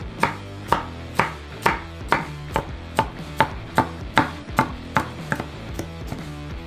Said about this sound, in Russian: Срезаем с него красную часть. Нарезаем ее на полоски.